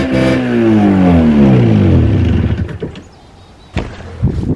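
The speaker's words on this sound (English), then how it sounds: "we'll see if it's idling on its own power" Ski-Doo MXZ snowmobile engine revving loudly then dropping in pitch and dying out instead of idling, followed by quiet and a few clunks and rattles nearby.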